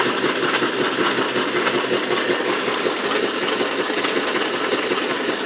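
A can crusher machine with a wobbling pulley runs steadily, a dense mechanical whir and rattle holding an even, continuous level throughout with no voices.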